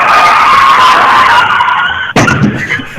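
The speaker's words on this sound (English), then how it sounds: "That was a car crash." Car crash sound effect: loud, sustained tire skid screech for about two seconds, cut by a sharp impact, then fading crunch and debris.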